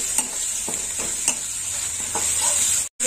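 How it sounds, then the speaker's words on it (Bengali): Ginger paste and spices stirred and fried in a pan while cooking bitter gourd dal with moong and masoor lentils, a steady sizzle with a few scraping strokes of the spoon, close and continuous, ending in a brief cut to silence. "এবার একটু ভালো করে কষে নেবো।"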